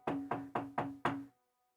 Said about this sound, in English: A knock at my door happens.